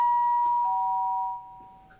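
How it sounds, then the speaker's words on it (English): Doorbell chime at night picked up by a doorbell camera, one clear ding that rings out and fades over about two seconds. "Why are these people ringing the doorbell in the middle of the night?"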